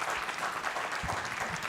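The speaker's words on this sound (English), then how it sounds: "I'd like for you guys to give our panel a round of applause." A panel audience claps steadily and continuously after a discussion on arts in the liberation struggle, with dense, even applause filling the whole short stretch.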